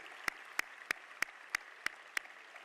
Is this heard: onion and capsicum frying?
no